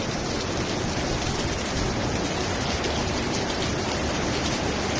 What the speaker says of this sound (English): the rain is persisting down.